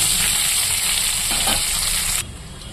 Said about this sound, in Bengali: তো ফুলকপিটাকে আমি ভেজে নিয়েছি লাল লাল করে